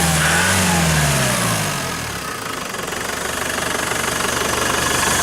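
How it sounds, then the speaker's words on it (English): Range Rover Classic with a 200 diesel engine idling smoothly after firing up, a steady low loud rumble with a brief rev dropping away at the start, no voices. "Again, like any 200, fires on half a crank, and sounds nice and smooth."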